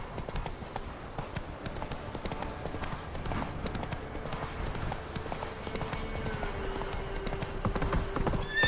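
Geralt's horse Roach gallops in The Witcher video game, a steady close clip-clop of hooves running throughout over rumbling game ambience and music, with a brief whinny and short shouted voices.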